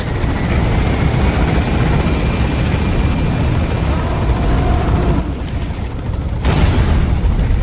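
A loud helicopter in the Metal Gear Solid V video game keeps up a steady, dense rotor roar, with a short dip and then a sharp burst near the end.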